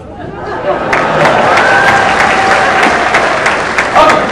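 Loud audience applause after a magic trick at a show aboard the Branson Belle, a dense, steady wash of clapping mixed with crowd noise and a few whoops.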